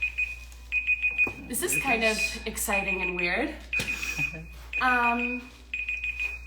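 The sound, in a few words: timer going off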